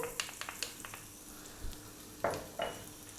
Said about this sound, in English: We'll start off by dropping in our garlic